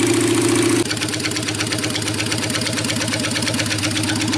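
A motorcycle engine with an unidentified problem idles steadily and loudly up close in a fast, even rhythmic pulse, with a slight change in tone just under a second in.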